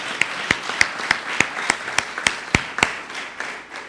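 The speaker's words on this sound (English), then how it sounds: "Let's give Alan a round of applause" Sharp, evenly spaced claps for Alan McVeigh at a West Virginia State University campaign announcement, about a dozen crisp hand slaps in a brisk steady rhythm that soften near the end.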